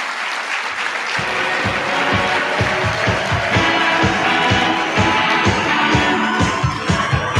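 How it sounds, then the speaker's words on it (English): Audience applause after an emotional tribute at a conference closing session, loud and sustained for the whole stretch with dense steady clapping and a few sharper claps standing out, no talking over it. "I would first like another round of applause for Natasha for coming."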